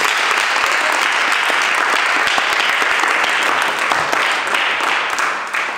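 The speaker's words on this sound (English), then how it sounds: "Clap for Jesus." A church congregation applauds together, steady dense clapping filling the room at close range for several seconds before easing slightly at the end.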